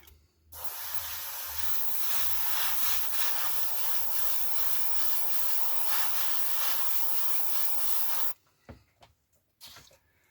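An airbrush hisses steadily while spraying paint onto the tyre tread of a 1/48 scale Kinetic F-104J Starfighter model's wheels: one long, loud, even burst of about eight seconds, then two short puffs in the quiet after.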